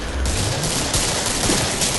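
Rapid, sustained gunfire from the video game Killing Floor, a loud dense burst of automatic shots that keeps going without a break.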